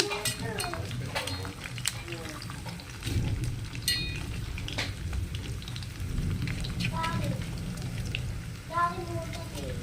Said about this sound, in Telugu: జీలకర్ర వేసుకున్నాను. ఇప్పుడు ఉల్లిపాయ వేసుకుంటున్నాను.